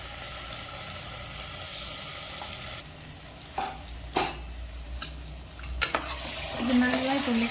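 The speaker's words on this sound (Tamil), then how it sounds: "வெறும் சிக்கன் மட்டும் எடுத்து இதில் போட்டுக்கோங்க." Marinated chicken pieces tipped into a hot pan for Afghani chicken, then stirred with a utensil, giving a steady sizzle and frying hiss, with a few sharp scraping clatters against the pan toward the end.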